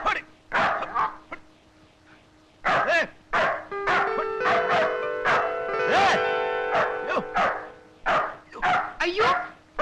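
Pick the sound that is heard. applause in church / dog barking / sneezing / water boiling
dog barking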